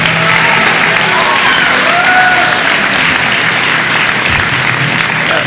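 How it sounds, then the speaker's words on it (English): A graduation audience at a high school class day gives a loud, sustained round of applause that fills the whole stretch as dense, steady clapping from a large crowd. "I hope that everybody gives him a round of applause"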